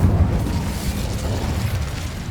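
A fire spell cast in the Hogwarts Legacy video game gives a steady, loud, low roaring whoosh with a deep rumble, sustained for a couple of seconds with no voices over it.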